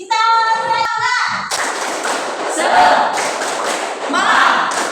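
A classroom of students performs a rhythmic clapping chant: after an opening tone, loud claps and thumps come in fast repeating patterns mixed with shouted voices.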